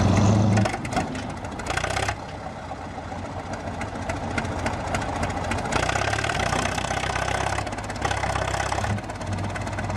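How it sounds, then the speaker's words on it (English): Heavy engine of a large yellow tractor working steadily while pulling another tractor out of mud, a continuous loud rumble that swells and eases in strain with knocking undertones and no talk. "This giant yellow tractor is trying to pull another tractor out of the mud."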